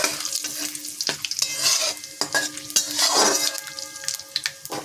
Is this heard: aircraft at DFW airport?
no